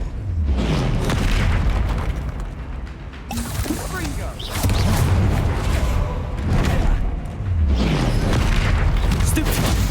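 Explosive spell impacts from Hogwarts Legacy combat erupt as loud, heavy booms in repeated bursts, with rumbling blasts overlapping one another and voices mixed in with the din.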